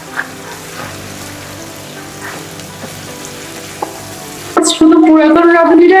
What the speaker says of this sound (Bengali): নেড়ে চেড়ে আবারও কচুরলতিটাকে ভেজে নিব 2 মিনিটের মতো